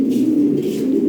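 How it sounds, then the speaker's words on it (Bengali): European Lahori pigeons give a close, loud, continuous low cooing with a throaty rolling pulse, with no voices over it. "এই একটা পেয়ার সেম বিটের কবুতর"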